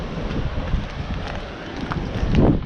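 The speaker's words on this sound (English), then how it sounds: "Windy, unfortunately." Wind gusting inside a seaside cave at Boat Harbour, Tasmania, buffeting the microphone with loud, continuous rumbling noise that swells toward the end.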